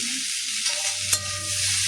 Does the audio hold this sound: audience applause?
no